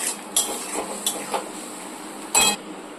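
Garam masala spices stirred in hot oil in a pan, with a few clinking metal scrapes and taps over a steady faint hiss.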